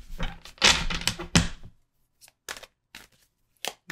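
Papery riffling and slapping of tarot cards being shuffled, a dense burst of flicks followed by a few scattered, sharper card taps.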